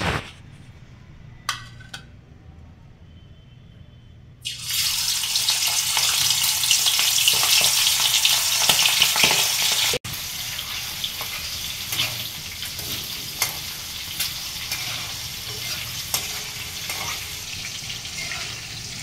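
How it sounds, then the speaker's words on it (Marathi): Marinated prawns dropped into hot oil burst into a loud, steady sizzle after a quiet start with a few light clicks, the frying hiss holding strong and close, then settling slightly lower but continuous, with occasional pops. "आता आपण ही मॅरिनेट करून घेतलेली कोळंबी तेलामध्ये फ्राय करून घेऊ।"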